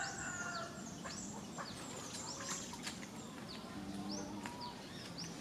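Chickens cluck and squawk in chicken coops at a farm, a continuous busy chorus of many birds with overlapping calls at moderate distance.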